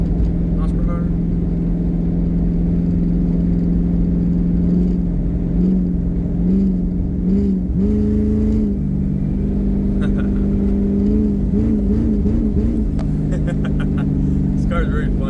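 2001 Ford Mustang GT V8 engine revving while driving at around 37 mph in a low gear, a loud, steady deep drone with repeated rising and falling throttle blips, accompanied by road and cabin noise.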